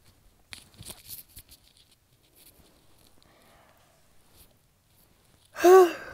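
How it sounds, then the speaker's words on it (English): A person yawns loudly near the end, a drawn-out voiced exhale that follows a few seconds of faint shuffling and quiet background noise. "that was yawn. I'm tired."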